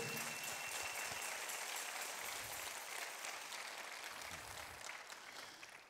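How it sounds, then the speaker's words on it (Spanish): Church congregation applauding together during a worship service, a steady dense clapping that fills the room and stays loud throughout before tapering slightly at the end. "¿Quiere darle un aplauso al Señor?"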